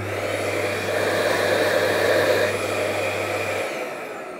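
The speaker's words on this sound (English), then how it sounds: "remove the hose and test the vacuum suction without it" A Dyson Big Ball cylinder vacuum cleaner runs with its hose removed, giving a steady, loud whooshing motor roar with a low hum that cuts out near the end.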